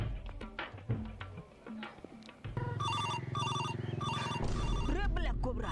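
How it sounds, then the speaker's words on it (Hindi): A phone rings with a melodic ringtone for an incoming video call, repeating tones that become loud and steady midway, with people talking and other sounds around it. "अरे वीडियो कॉल लग रहा है ना।"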